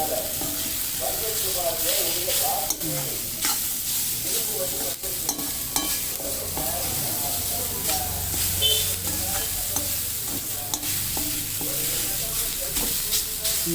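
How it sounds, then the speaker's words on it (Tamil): Onions sauté in a pan with a little grated coconut, sizzling steadily while a spoon scrapes and stirs through them in repeated strokes, close and continuous. The dish is fasting-day home cooking. "வெங்காயம் கொஞ்சம் வதங்கட்டும் போட்டு ஒரு கிண்டு கிண்டி"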